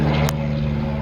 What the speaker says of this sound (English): this is the plane activity I keep getting all day